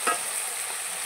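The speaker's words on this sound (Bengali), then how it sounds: "এবারে দিয়ে দেবো জিরে বাটা, সব মশলাগুলো দিয়ে দেবো, লঙ্কা বাটা, বাকি তাপ, আদা বাটা" Spice pastes of cumin, chilli and ginger go into meat already frying in a pan, giving a soft, steady sizzle with one short clatter at the start.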